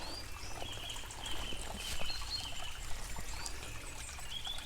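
A small woodland stream trickles beside a wild camp on the Coast to Coast Walk, a close, continuous babble of running water with light bird calls above it and no talking.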